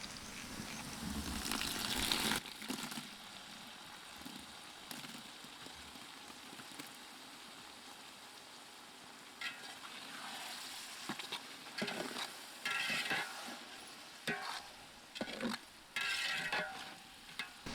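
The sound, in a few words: onions and tomatoes frying and being stirred in pan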